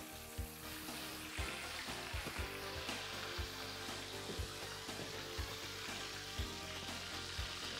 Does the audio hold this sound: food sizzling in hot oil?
yes